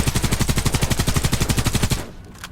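A UMP Custom SMG in the Warface shooter fires one sustained burst of rapid, evenly spaced shots for about two seconds, loud and close, then stops abruptly, leaving a faint tail and a small click.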